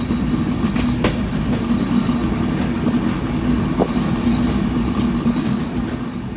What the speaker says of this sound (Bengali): পদ্মা সেতু পাড়ি দিয়ে আমাদের ট্রেন ছুটছে দানবের গতিতে।